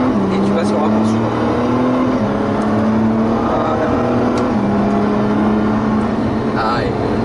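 A car accelerates on a driving-course track at Le Sambuc, its engine droning loud and close as the pitch climbs and steps through gear changes, with an instructor's voice faintly under the noise.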